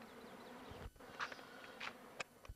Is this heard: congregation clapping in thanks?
no